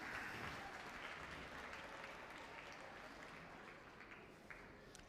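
Audience applause for the medalists at a national schools cross country championships awards ceremony, a steady wash of clapping that fills the scene and fades slightly toward the end.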